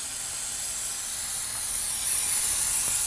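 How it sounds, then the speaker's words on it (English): Brake parts cleaner spraying onto the rear brakes of a 2001-2009 Volvo S60, one continuous loud hissing jet held for about three seconds, then cut off abruptly, close with no speech. "using a little brake parts cleaner, we're just going to clean up some of the brake fluid"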